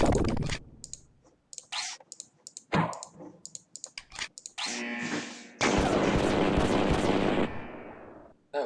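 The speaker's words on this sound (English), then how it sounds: "Sniper rifle." Sharp sniper rifle shots in a video game ring out amid clicking, with several short bursts and then a long, loud stretch of firing, close and dense.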